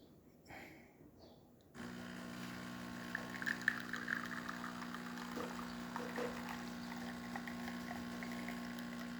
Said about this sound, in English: Nice steady stream coming out of the machine and excellent color as well.